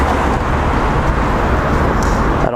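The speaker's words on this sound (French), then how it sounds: "s'il y a des bruits de voiture, c'est normal" Car traffic passes along an outdoor road at a skate spot, a loud continuous roar of nearby vehicles that fades slightly at the end, with no talk.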